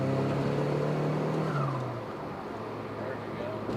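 A Cobalt SS Turbo with an F40 six-speed transmission revs hard from inside the cabin, its engine note rising then dropping as a gear changes, with steady road and drivetrain rumble continuing underneath.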